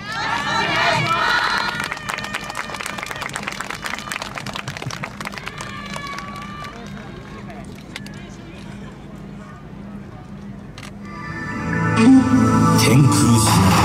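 Audience at a yosakoi dance festival in Kawasaki, a crowd cheering and shouting steadily throughout, swelling louder near the end, with a voice speaking over an amplified announcement.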